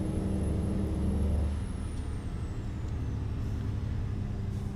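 A truck in American Truck Simulator releases its air brake with a sustained hiss that fades after about a second and a half, over a steady low engine rumble and faint high whine.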